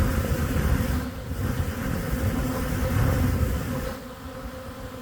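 A swarm of bees flies around a house, a dense continuous buzzing drone that holds steady and close, easing slightly toward the end with a faint mechanical hum beneath.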